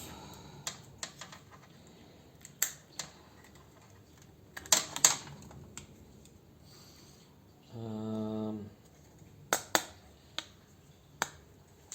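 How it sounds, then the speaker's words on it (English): Sharp, isolated snips of cutters clipping wires off a salt water pool chlorine generator being scrapped, several close clicks spread across the stretch with a brief buzzing burst in the middle. "Snip the wires off."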